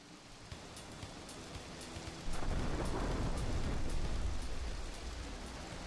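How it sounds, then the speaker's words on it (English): Steady rain pours in GTA Trilogy Definitive Edition, and partway through a deep thunder rumble swells and rolls on under the downpour, with no talking. "I think the rain is a bit too much."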